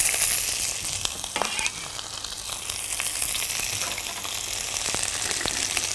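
Green onions fry in a pan with a steady bright sizzle and occasional crackles and spatter, close and fairly even in level from start to finish.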